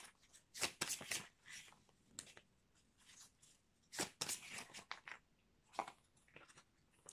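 Oracle cards from the Voie Astrale deck being shuffled by hand, a run of crisp papery riffles and slaps in uneven bursts, close and fairly quiet with pauses between.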